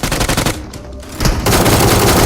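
Loud, close bursts of shotgun fire in PUBG Mobile, a short volley, a brief pause, then sustained heavy firing.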